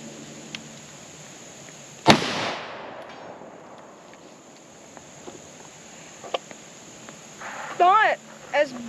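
A 20 gauge shotgun fires a single loud, sharp blast outdoors, its report ringing out and decaying over about a second against quiet background with insect chirps.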